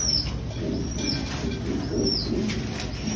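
Sambalpuri pigeons in a home loft, with soft, continuous low cooing and rustling, plus a few brief flutters of wings, close and steady throughout.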